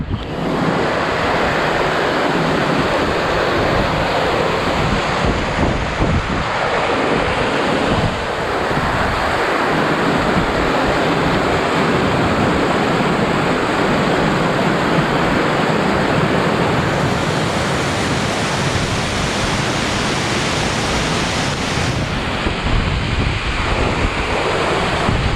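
Winter storm wind in the mountains, a loud, continuous roaring rush buffeting the microphone, swelling and easing slightly over time with no pauses and no voices.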